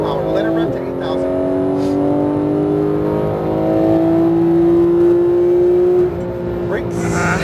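Porsche GT3 engine revving hard on a racing circuit, its rising whine climbing steadily for several seconds before backing off, loud and close, with a voice talking over it.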